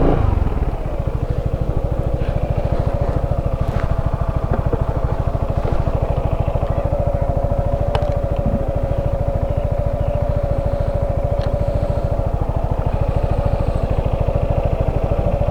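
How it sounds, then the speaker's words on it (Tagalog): Motorcycles ride off-road on rough mountain ground in Bakun, Benguet, their engines holding a steady, close, droning hum with occasional clatter and knocks over the whole stretch. "ina-off-road ng mga motor."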